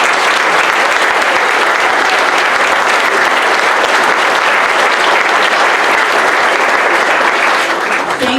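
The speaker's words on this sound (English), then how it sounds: "stand up so we can clap for you" Loud, dense applause from an audience at a sixth-grade moving-up ceremony, honouring the setup crew; many hands clap continuously and close for over eight seconds, fading slightly at the end.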